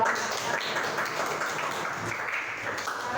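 Applause breaks out for a student group at a university event, a moderate, even patter of many hands clapping continuously for about three seconds.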